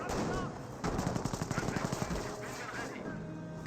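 Gunfire in the World War II strategy game Company of Heroes: a rapid burst of machine-gun fire with dense repeated shots, other battle noise around it and no speech over the top.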